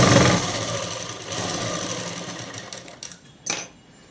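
A sewing machine stitches a dress, running in a rapid mechanical whir that slows and fades, then a short burst of needle clatter near the end.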